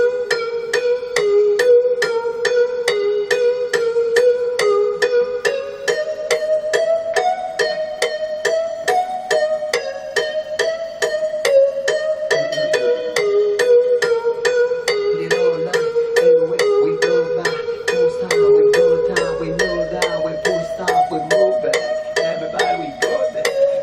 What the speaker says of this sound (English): This is an electronic marimba